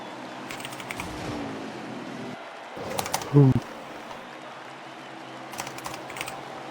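Typing on a computer keyboard during an online motorsports racing session, quick bursts of key clicks in separate clusters, with a low hum and some voice underneath.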